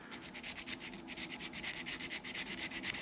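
Fine 1,000 to 1,500 grit sandpaper, folded over, rubs a part of a Tyco Century 430 Spirit of '76 toy locomotive, making a steady, close run of quick scratchy strokes with no talking.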